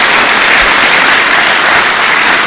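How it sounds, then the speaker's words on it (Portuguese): Very loud, continuous applause fills a church service, a thick roar of many hands clapping together that stays at full strength for the whole stretch. "Dê uma salva de palmas a Jesus."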